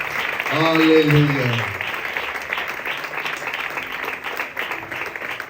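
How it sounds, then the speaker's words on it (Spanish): A church congregation claps for the Lord during a Spanish-language sermon, a steady wash of applause that follows a voice calling out at the start and carries on to the end. "Le damos un aplauso al Señor, por favor."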